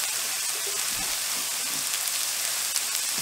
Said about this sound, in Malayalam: എന്നിട്ട് ഉള്ളി നമുക്ക് നന്നായി വഴറ്റി എടുക്കണം.